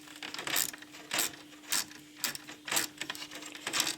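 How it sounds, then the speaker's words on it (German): A screw being driven into a Nivona CR 740 coffee machine during repair, heard as a series of about seven ratcheting clicks from a close hand tool in a quiet room, each one short and crisp. "So, dann können wir das festschrauben."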